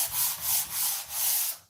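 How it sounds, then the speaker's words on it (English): Dried filler over screws is sanded by hand in four quick, rhythmic back-and-forth strokes, close and scratchy. "I'm gonna one hand sand that"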